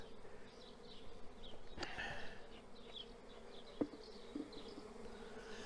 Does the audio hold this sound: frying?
no